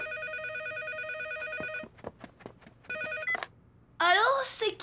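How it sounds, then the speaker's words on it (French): Telephone bell rings in repeated electronic bursts, a short pause and another ring, loud and close, then an excited voice exclaims over the end. "le téléphone va sonner"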